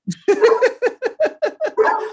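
A dog barks in a home, about nine sharp barks in a quick, even rhythm, close and loud with no talk over them.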